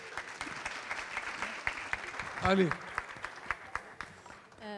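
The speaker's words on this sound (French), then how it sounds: "mais on applaudit Méziane." Scattered applause from a small audience at a cultural event, individual claps audible and fairly close, with a voice speaking briefly over them and a short vocal sound in the middle.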